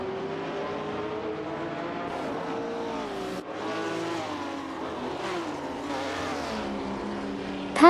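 Ford GT40 and Porsche 908 race cars battling in a racing video game: dense overlapping engine whines rising and falling through gear changes, sustained and close, with a brief dip midway and a hint of tire squeal.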